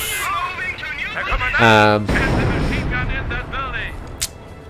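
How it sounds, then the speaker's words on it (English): Artillery barrages from British guns pound positions in the Company of Heroes strategy game, set at Oosterbeek during Operation Market Garden, with rumbling blasts mixed with voices and battle noise over a few seconds. "Here the British are once again firing their artillery on us"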